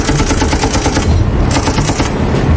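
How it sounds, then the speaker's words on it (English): Rear machine gun firing, a loud, continuous rapid burst of shots that does not let up from start to finish. "manning the rear machine gun he now ruthlessly set to work"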